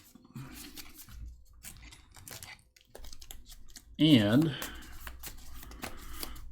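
Cards from the One Deck Dungeon card game are shuffled and handled on a table, giving light, rapid papery riffles and clicks. Someone talks over part of the shuffling.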